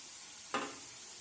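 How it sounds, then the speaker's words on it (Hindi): Eggs frying in hot oil in a kadai give a soft sizzle, with one sharper hiss of spatter breaking through the quiet background. "बाकी अंडों को भी हम फ्राई कर लेंगे अच्छी तरीके से।"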